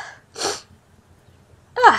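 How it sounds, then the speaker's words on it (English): A person gives a sharp inhale followed by a short breathy burst, and then a louder, abrupt sneeze at the end, close to the microphone. "I have to sneeze."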